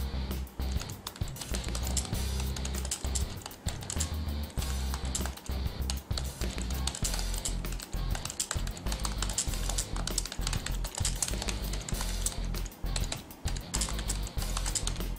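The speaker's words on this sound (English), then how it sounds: "I can start typing using my standard keyboard." Typing on a standard computer keyboard paired with a Samsung Galaxy Note 3 phone: steady, rapid, close clicking of keys with no talk, continuing throughout.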